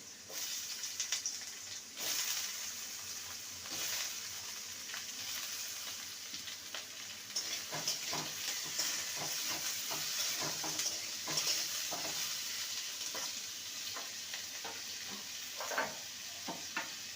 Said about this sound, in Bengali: তেলটা ভালো মতন গরম হয়ে গেছে প্রথমে আলুটাকে দু মিনিট ভেজে নেব তারপর কাঁকরোলকে ভেজে নেব একসঙ্গে